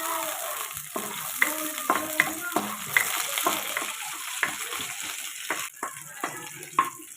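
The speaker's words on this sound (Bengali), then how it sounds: "কাজু কিশমিশটা আমি ভেজে নেব।" Cashews and raisins fry in ghee for Bengali dudh semai with a continuous close sizzle, punctuated by repeated scraping and clinking of a spatula stirring the pan.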